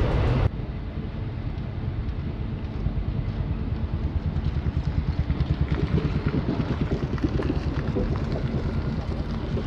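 An Ahmadpur–Katwa passenger train rolls slowly around a curve, giving a steady low rumble with a rhythmic clatter of wheels over rail joints that grows a little busier over time, heard from on board.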